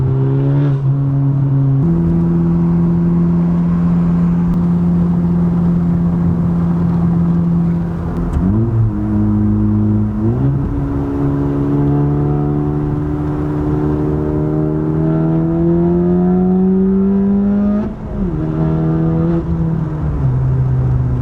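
A modified Honda Type R engine revs loudly and continuously, its pitch climbing through several gear changes with brief drops between each pull.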